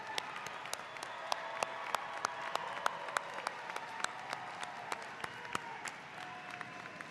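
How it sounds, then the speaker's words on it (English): An audience at a fall university commencement ceremony applauds alumni, soft continuous clapping with sharper individual claps standing out, sustained and somewhat distant. "Come on, big round of applause"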